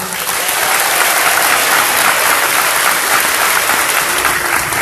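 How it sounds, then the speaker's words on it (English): Loud, sustained audience applause at a school district board meeting honoring elementary schools, a dense, even roar of many hands clapping that fills the room from start to finish. "Give them a round of applause."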